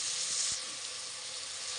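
Ginger garlic paste frying in a hot pan, giving a steady bright sizzle and hiss that holds for the whole short moment, close and moderately loud, with no voices.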